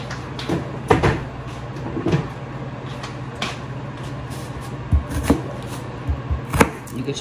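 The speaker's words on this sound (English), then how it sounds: "You can chop your onions however you want to. I'm just gonna chop them like this because it's easy." A knife chops onions on a board for homemade Indian spiced samosas, making irregular sharp knocks and thuds close by over a low background hum.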